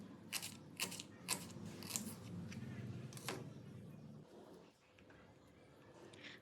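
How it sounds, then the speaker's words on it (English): Onions being cut for a curry in a home kitchen, a handful of sharp, crisp knife strokes in the first few seconds over a steady low background hum, with no talking. "Then cut the 3 to 4 onions nicely."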